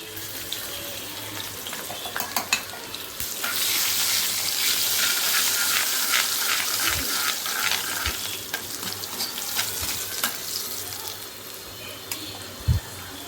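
Small onions sizzle in a hot tempering for mango dal, a steady frying hiss broken by a few light clinks and scrapes of stirring, with no talk over it.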